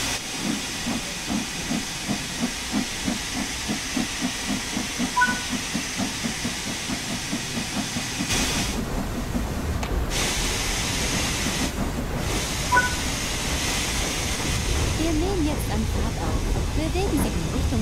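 Steam locomotive in Train Sim World 4 pulling away, with a rhythmic chuffing of exhaust beats that grows louder, then gives way to a continuous loud hiss of steam with brief surges.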